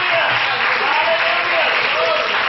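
A church congregation claps hands together, a steady, dense wash of applause filling the room, with a few voices faintly underneath.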